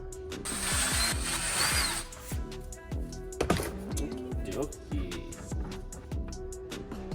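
Screws being driven into the interior of an inexpensive Mazda Miata, rapid ratcheting clicks and short buzzing driver bursts close by, with a sharp clack midway and faint background voices.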